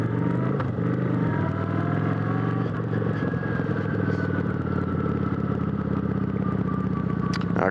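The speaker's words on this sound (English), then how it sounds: "this is a liquid-cooled V-twin. And this one is actually stock, so it's got the stock mufflers and stock baffles" A stock Kawasaki Vulcan 900 liquid-cooled V-twin motorcycle running through its stock mufflers and baffles, with a steady, continuous engine drone and a slowly shifting tone.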